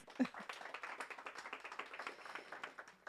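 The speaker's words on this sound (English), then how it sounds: "May we please give him a louder round of applause?" A small audience applauding at a telecom campaign launch event: a scattered, fairly faint patter of hand claps with uneven rhythm, continuing steadily for a few seconds without voices.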